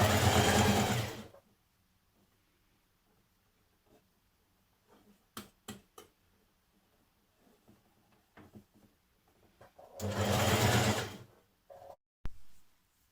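Sewing machine hemming a 1940s vintage-style blouse, two loud close bursts of rapid stitching at the start and near the end, with quiet handling clicks and taps between them.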